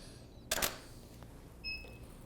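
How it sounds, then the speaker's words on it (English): A single crisp camera shutter click sounds up close in a quiet room, followed by a couple of faint electronic beeps. "I'm gonna go slower on the shutter."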